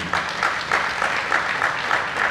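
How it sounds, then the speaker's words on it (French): Audience applause welcoming a speaker at an NGO screening event on gender-based violence in Guinea, a steady burst of clapping from a crowd indoors, fairly loud and even throughout with no voices. "On l'acclame, s'il vous plaît."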